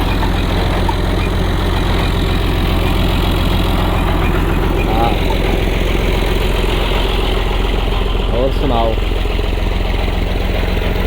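A tractor engine idles steadily in a Pakistani village, a continuous low throbbing drone that runs the whole time beneath nearby conversation.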